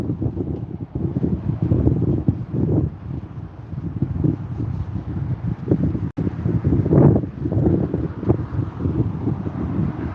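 Wind gusts outdoors buffet the microphone and make a steady low rumble that swells and fades.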